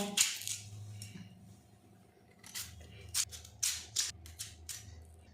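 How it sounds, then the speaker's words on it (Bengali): A knife chops a potato into small cubes on a board, a run of crisp close cutting clicks and taps in uneven bursts, with faint background sound between strokes. "এবারে এখানে ছোট ছোট আর ডুমো ডুমো করে আমি কেটে নেব।"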